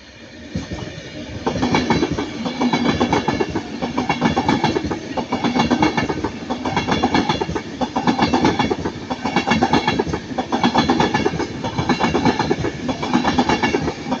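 A Class 197 diesel multiple unit, number 197-110, passes at Ardwick with steady rhythmic clickety-clack of wheels over rail joints and engine rumble, loud and close for the full length with no talk.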